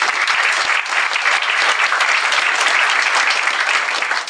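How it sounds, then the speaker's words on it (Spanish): Seminar attendees give a sustained round of applause of thanks, a dense, even sheet of many hands clapping that stays loud and constant throughout. "pues también pido un aplauso de agradecimiento."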